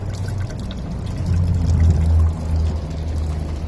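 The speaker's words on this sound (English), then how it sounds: "So we're gonna dump water down the sunroof again. See if it pours out down here" Water from a hose gushes out of the sunroof drain of a 2013 Cadillac SRX 2.4L, a loud continuous pouring splash close by that surges in the middle, with no talk.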